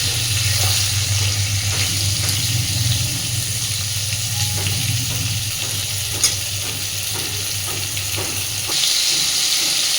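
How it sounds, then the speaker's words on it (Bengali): Slices of pointed gourd (potol) fry in hot oil with salt until reddish, giving a steady, dense sizzle that runs unbroken and fairly loud over a low hum, with a few soft stirring scrapes. "লবণগুলো দিয়ে একদম সুন্দর করে লালচে লালচে করে পটলগুলো ভেজে নেব।"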